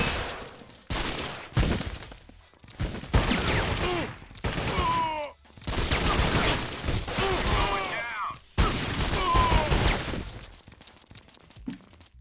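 Bursts of gunfire rattle in repeated volleys in a 50 Cent G-Unit video game, loud and continuous with brief pauses, mixed with game sounds.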